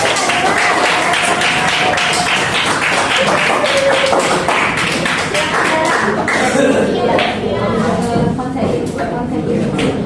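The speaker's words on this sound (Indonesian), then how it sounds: "Tepuk tangan dulu dong" Loud, steady clapping from a group of people fills the space, mixed with voices and chatter throughout.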